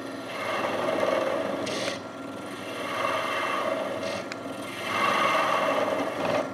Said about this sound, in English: Paring it back layer by layer.